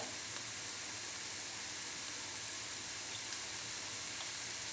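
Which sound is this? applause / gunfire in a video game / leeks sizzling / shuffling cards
leeks sizzling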